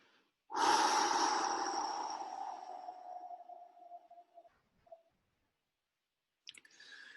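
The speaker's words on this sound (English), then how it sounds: "Inhale one more time. And exhale from the belly out." A single deep breath drawn in sharply, then a long, slow exhale from the belly that gradually fades, close and quiet, followed by silence and a faint second intake.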